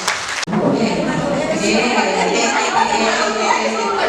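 Dense, sustained applause from a school audience in Kupang fills the room after a sharp onset, steady and loud throughout, with some murmuring voices mixed in.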